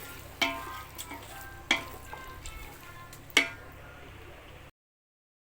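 Chicken sautéing in a pan for biryani gives a steady, moderate sizzle broken by three sharp spoon knocks against the pan, before cutting to silence near the end.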